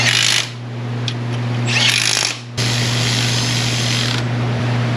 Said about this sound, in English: These bolts are so easy, I can use my 3/8 impact.